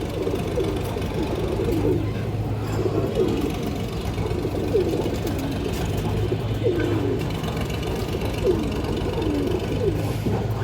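Highflyer pigeons coo repeatedly in soft, rolling low calls over a constant background hum, with several birds overlapping at close range.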